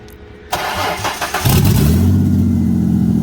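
A Cadillac CTS-V cranks with a brief starter whir, then catches and fires into a loud, deep idle that settles into a steady rumble close by.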